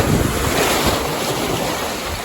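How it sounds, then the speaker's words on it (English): Ocean waves surge and wash onto a beach in a continuous roar, loud and close, with strong wind buffeting the microphone and no voices. "These waves are really starting to push up on me."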